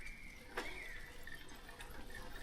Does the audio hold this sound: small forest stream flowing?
yes